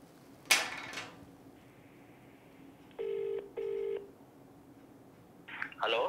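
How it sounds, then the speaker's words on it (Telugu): Telephone call ringback tones, two steady electronic rings with a short gap between them, heard close and clear in a quiet room. A couple of brief handling clicks and bumps come before and after the rings. "శరత్ కుమార్ గారు కాల్ చేస్తున్నారు."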